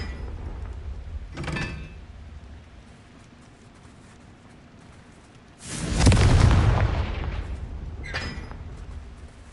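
Confringo blasting spell in the video game Hogwarts Legacy: a brief muffled burst, then a big, loud explosive boom that rolls off over a second or two, followed by another short, lighter blast.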